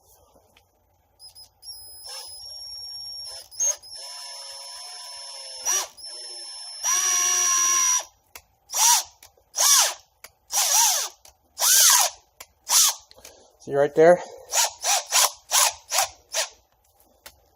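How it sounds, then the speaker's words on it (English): A power drill runs a thread tap in an engine block, whining in sustained bursts, then in short repeated pulses with a ratcheting rattle as its clutch slips; a brief spoken remark cuts in partway. "You can hear the clutch slipping."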